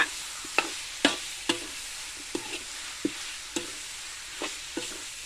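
Bamboo shoots stir-fried with chicken in red curry paste, a spatula scraping and clacking against the wok in irregular sharp strokes over a soft, steady sizzle.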